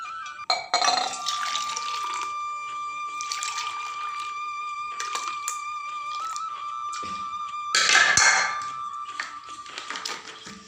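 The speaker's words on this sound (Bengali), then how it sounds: "এই গরম জলের সঙ্গে ঠান্ডা জল মিশিয়ে নেব কারণ জলটা তো তার অতিরিক্ত গরম হয়ে গেছে" Cold water is poured into overheated hot water while tea is being made. Splashy pouring comes in several bursts with glassy clinks between them, and a louder gush of water follows near the end, with no voices.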